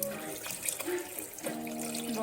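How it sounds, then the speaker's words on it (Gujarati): Water runs steadily from a tap into a pressure cooker holding rice, a continuous splashing pour with faint clinks, close and fairly quiet. "દોઢ ગ્લાસ જેટલું પાણી એડ કરીશું"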